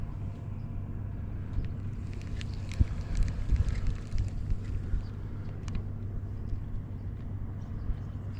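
Steady low wind rumbling and buffeting against the microphone outdoors while a fishing line is cast, with a faint higher rustling swell in the middle and no talk.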